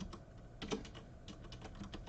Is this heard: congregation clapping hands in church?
no